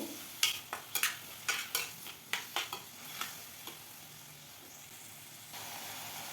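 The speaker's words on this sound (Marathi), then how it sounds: "मीठ आणि साखर यामध्ये छान अशी मिसळून घ्यायची आणि छान टोमॅटो मऊ होईपर्यंत आपल्याला चटणी परतून घ्यायची आहे" Tomato chutney with salt and sugar being stirred and sautéed in a pan: a quick run of distinct spoon scrapes and knocks over a soft sizzle, close by, easing into a quiet steady fry.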